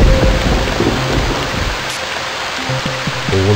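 A storm in the video game Stranded 2, with steady loud rain and a low rolling rumble of thunder under it, plus a few short tonal game sounds near the end.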